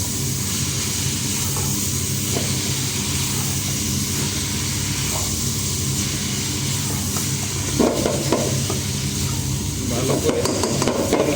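Sliced potatoes and bitter gourd cut in karela style hiss and sizzle steadily in a hot pan for a Bangladeshi fry, with occasional stirring scrapes and clinks toward the end; no one speaks.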